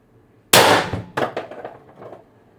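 An air gun with a repaired on/off valve fires one sharp, loud, close shot, followed by a quick metallic clatter and short ringing echoes that fade within about two seconds.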